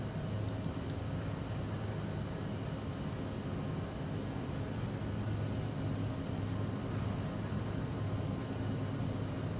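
Simulated airliner jet engines at takeoff thrust in a flight simulator game on a Key West to Atlanta departure, giving a loud, steady, close roar with a faint whine that holds evenly throughout, with no voices.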